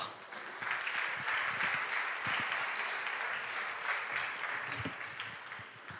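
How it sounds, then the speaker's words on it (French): Audience applause at a French public talk on mass manipulation and social engineering, welcoming the next speaker: steady, dense clapping from a sizeable crowd lasting several seconds, moderately distant with a hall-like wash. "Et nous pouvons applaudir Frédéric Goaregger."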